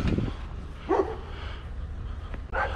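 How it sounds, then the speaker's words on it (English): Dogs bark outdoors on a street, a few short barks at moderate distance, with quiet ambient noise between them. "Some more dogs."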